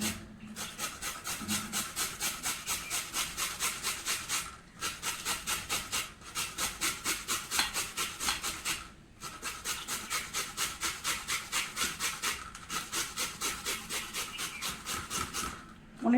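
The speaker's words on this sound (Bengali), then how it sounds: "আলুটা গ্রেটারতে গ্রেট করে নিচ্ছি।" Sweet potato rubbed against a kitchen grater in steady back-and-forth strokes, a dense rasping scrape repeating in quick bursts with short pauses between runs, close and fairly quiet.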